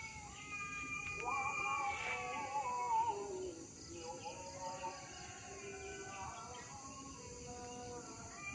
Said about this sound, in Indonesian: Tuh ada suara kucing.